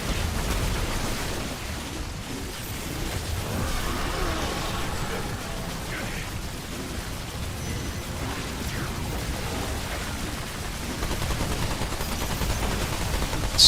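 Automated turret fire in the Remnant 2 video game, on Nightmare difficulty, keeps up a steady, dense stream of rapid shots for the whole stretch, loud and busy with overlapping impacts and background game noise.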